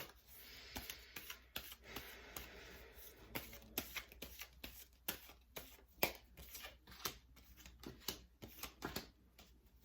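A deck of tarot cards is shuffled and drawn close up, giving quiet rapid riffling flicks and soft slaps in irregular bursts, with no talking.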